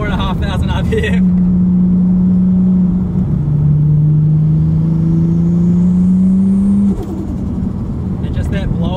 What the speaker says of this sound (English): that blow-off valve when you let off the gas just goes and goes and goes